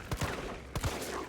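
Gunfire in the Resident Evil 3 remake video game, two quick pairs of sharp shots about half a second apart, close and fairly loud.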